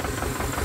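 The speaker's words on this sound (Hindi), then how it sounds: "आवाज़ इसकी देखिए भाई, कितनी बड़ी आवाज़ के साथ ट्रैक्टर है" An antique HMT 2522 tractor engine idles with a dense, steady rumble and knocking pulse, loud and close, with no voices over it.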